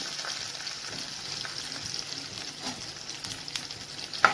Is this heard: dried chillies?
yes